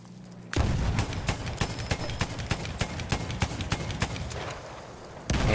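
Rapid repeated gunfire and artillery booms from a field gun on an island in a Battlefield 1 Dreadnought battle, loud sharp bursts fired in a steady rhythm through the whole stretch.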